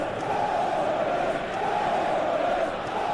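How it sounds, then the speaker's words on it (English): Stadium crowd noise from PES 2018 football gameplay, a steady roar of many voices swelling slightly, continuous and fairly distant throughout. "you can feel and hear how the crowd are reacting to all of this."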